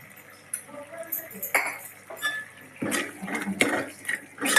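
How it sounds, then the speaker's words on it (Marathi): Chili powder being stirred into misal in a metal pan, a spoon scraping and clinking against the sides in uneven bursts, close and fairly loud, with a faint wet shuffle of the curry. "आणि चांगलं मिक्स करून घेऊया."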